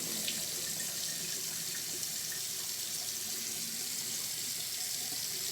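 Tap water runs steadily into a sink while raw chicken breast is rinsed under it, a continuous hissing splash throughout with no talking.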